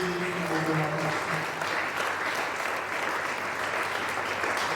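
A church congregation breaks into steady, dense applause, loud and continuous throughout, with faint voices and a low sung or spoken tone mixed underneath.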